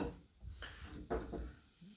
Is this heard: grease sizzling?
yes